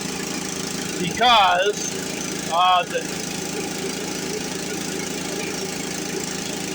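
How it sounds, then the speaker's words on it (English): A gas engine air compressor idles with the idle set slightly high, a steady mid-pitched engine rumble running throughout, with someone briefly speaking over it. "I set the idle up a little ways"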